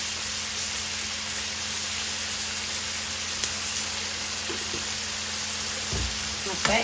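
Onions and tomatoes, salted for a crab curry, sauté in a pan with a soft, steady sizzle and a few light utensil clicks near the end.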